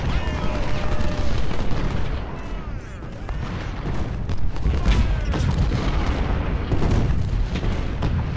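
Cannon and artillery fire in the Civil War strategy game Ultimate General: Civil War: a dense, continuous barrage of deep booms and overlapping blasts that rolls on loudly throughout, with no quiet between shots.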